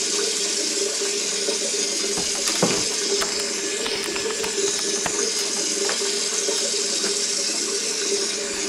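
Water from a tap steadily fills a container in the video game Hello Neighbor, a continuous close-up rushing gush with faint clicks and knocks scattered through it and no talking.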